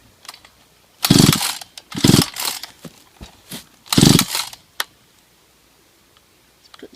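A brush cutter's small two-stroke engine is pull-started without priming, giving three rough bursts of sputtering that each fail to catch, with rattling and mechanical clicks between the tries and then quiet.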